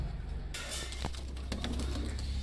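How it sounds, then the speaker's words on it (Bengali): Soft, low cooing from a pair of Sakhi-line pigeons, a few short coos rising from steady background noise. "স্ক্রিনে যে দুইটা কবুতর দেখছেন এটা হচ্ছে সাকি জেনারেশন কবুতর"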